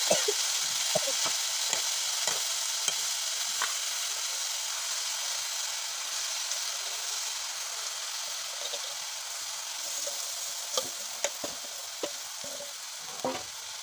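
Fresh spinach fries in a pan with garlic, giving a steady bright sizzle and hiss, broken by occasional clicks and scrapes of stirring, close up and without talk.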